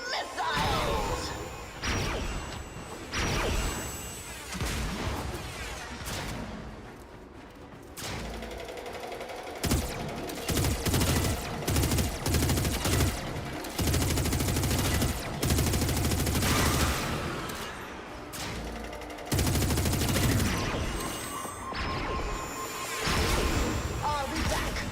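Missiles launching in a video game during chaotic combat on a Merrow map: a loud, sustained barrage of rapid blasts and crashing impacts, layered over dense game noise with only brief lulls between volleys.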